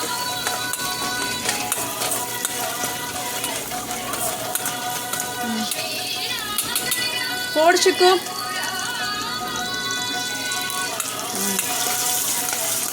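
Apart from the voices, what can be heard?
sautéing ingredients in a pan for sooji upma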